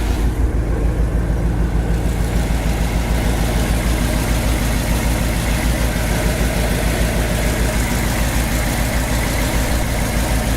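The engine of a 1959 Ford Retractable idles steadily and evenly after a tune-up, a low continuous rumble with a regular pulsing throb, close and fairly loud.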